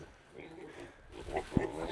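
Young homestead piglets give soft, low grunts and a short squeal close by, quiet and brief, with faint background noise.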